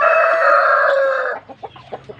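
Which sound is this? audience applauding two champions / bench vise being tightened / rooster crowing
rooster crowing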